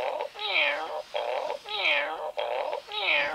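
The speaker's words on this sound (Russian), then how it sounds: "Кошара мурлыкал" A cat meows over and over in a rhythmic series of loud, drawn-out, rising-and-falling calls, each separated by short gaps.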